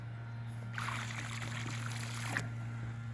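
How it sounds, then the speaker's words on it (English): Water pumped into a Coleman Power Steel Vista above-ground pool trickles and splashes softly for about a second and a half over a steady pump hum. "I'm pumping water into it now,"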